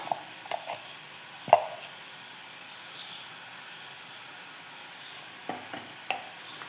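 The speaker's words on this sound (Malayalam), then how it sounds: "ഇനി ഇതെല്ലാം കൂടി നന്നായിട്ടൊന്ന് മിക്സ് ചെയ്തെടുക്കണം" A spice mixture is stirred and mixed in a pan, with a few scattered scrapes and light clinks of a utensil over a soft background hiss, fairly quiet and without talking.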